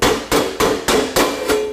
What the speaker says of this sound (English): a simple rawhide mallet